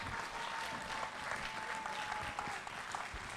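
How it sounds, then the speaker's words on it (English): Audience applause at a school event, steady and moderately distant clapping from a group of people, continuous without talk. "So give them a huge round of applause, everybody."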